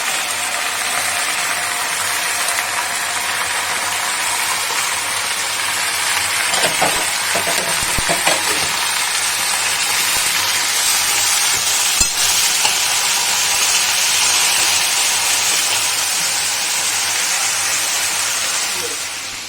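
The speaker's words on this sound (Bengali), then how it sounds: "বেগুন, এই যে ঝিঙে, সব মিশিয়ে দিই।" Eggplant and ridge gourd with mixed vegetables stir-frying in a pan for a Bangladeshi vegetable chorchori, with a steady close sizzle throughout and brief scraping stirs midway.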